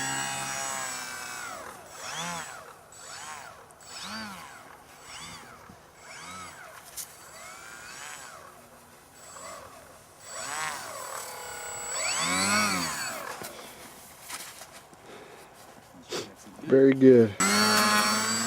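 An RC scale aircraft's motor whirs up and down in short repeated throttle bursts while the plane taxis, then builds to louder runs. A person speaks briefly over it.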